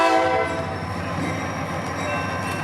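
A CSX local freight train sounds its horn on rails nearby, a loud sustained multi-tone blast over the rumble of rolling cars.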